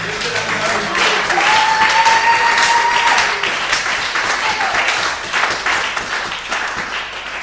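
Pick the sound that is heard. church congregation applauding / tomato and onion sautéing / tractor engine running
church congregation applauding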